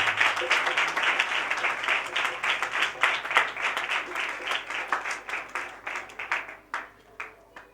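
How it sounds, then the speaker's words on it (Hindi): A church congregation at a Sunday service breaks into sustained applause, dense and steady at first, then thinning into scattered individual claps as it fades toward the end. "जोरदार तालियां जिंदा खुदा के लिए।"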